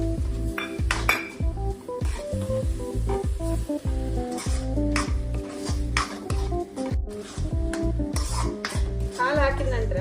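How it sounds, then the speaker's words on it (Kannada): A spoon scrapes and clanks steadily around a metal pan as milk is stirred into a Dharwad peda mixture made with milk powder, with a soft sizzle beneath the rhythmic clatter. "ಹಾಲು ಹಾಕಿದ ನಂತರ ಈ ರೀತಿ ಚೆನ್ನಾಗಿ ಕೈ ಆಡಿಸ್ತಾ ಇರ್ಬೇಕು"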